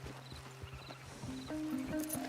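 Horse hooves clip-clop on the ground in Red Dead Redemption 2, with a whinny rising near the end, close and fairly loud over faint game ambience.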